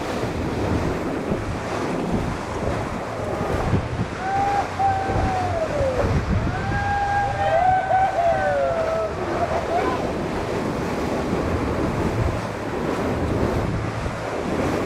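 Steady roar of wind and breaking surf around the historical 18-footer skiff Britannia as she planes fast on third rig in a 25-knot breeze, continuous and close, with faint whistling tones rising and falling mid-way.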